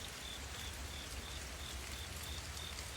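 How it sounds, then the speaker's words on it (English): Steady rain falls outside during a long downpour, a dense, even hiss of drops with no breaks, with no voices over it. "But yeah, just rain. You can hear it."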